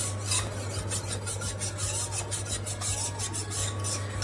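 A chef's knife is drawn repeatedly across a whetstone, giving a steady series of close, rhythmic rasping strokes with no talk, over a constant low hum.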